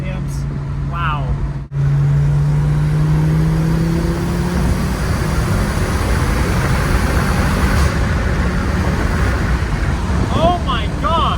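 A Porsche 944 fitted with a swapped Audi five-cylinder engine of about 300 horsepower accelerates to around 4,000 rpm. A loud, close engine drone rises steadily in pitch, and voices are heard briefly at the start and end.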